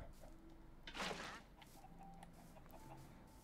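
Chickens in a pen in the video game Minecraft give soft, faint clucks, with one louder burst near the start and scattered quiet calls afterward.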